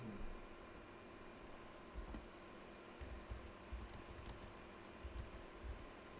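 Faint keystrokes come in scattered clusters as someone types code on a computer keyboard, quiet and close over a steady fan-like hiss.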